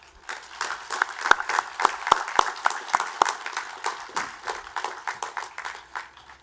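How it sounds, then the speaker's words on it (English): Applause from friends and family greeting newly commissioned Army ROTC officers at a ceremony, a room full of clapping with a few sharp, louder claps near the front standing out before it thins and fades. "Please give them a round of applause."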